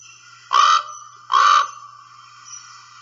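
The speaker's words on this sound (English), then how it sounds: "The call of the common raven is kind of a nasally cawing, somewhat similar to the American crow, but it tends to be nasally and more high-pitched than the crow." Common raven giving two nasal, fairly high-pitched caws about a second apart, close and clear, with a faint third call after.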